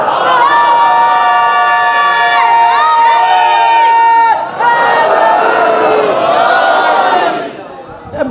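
A loud crowd at a Muharram majlis gathering chants religious slogans in unison, many voices shouting together in sustained, surging bursts that fade toward the end.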